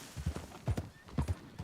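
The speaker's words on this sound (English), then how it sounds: "That's a fine hoss." Horse hooves clip-clop in an irregular gait in Red Dead Redemption 2, a few close, distinct thuds in quick pairs with a faint whinny-like tone and no talk.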